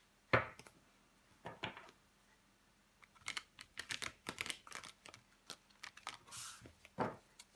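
Tarot cards handled and turned over on a table, a scatter of soft clicks, slaps and shuffles in irregular bursts, close and fairly quiet.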